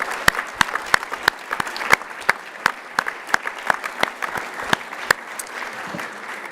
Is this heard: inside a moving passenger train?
no